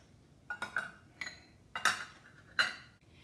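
A half-cup measuring cup being handled while measuring flour for raspberry cake, giving several light clinks and knocks in a short cluster, fairly close and clear, with no talk.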